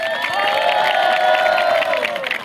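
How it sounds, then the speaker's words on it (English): A crowd cheering for performers at a college ethnic day celebration, a loud wash of shouts and whoops with high excited voices sustained throughout. "let's give them a cheer"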